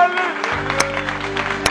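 Applause for the band at a Greek live music show, a steady patter of clapping under continuous music with tonal instruments playing throughout.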